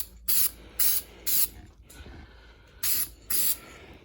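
Short bursts of spray paint hiss close by as a base coat goes on, five pulses of roughly half a second each with quiet gaps between them.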